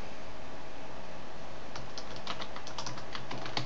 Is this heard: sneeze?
no